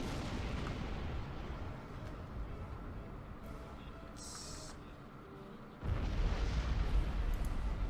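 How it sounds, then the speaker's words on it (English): A starship explodes in the space combat game Star Trek Online, a loud sustained rumbling blast with dense low roar that continues steadily, swelling sharply again near the end. "That was quite an explosion."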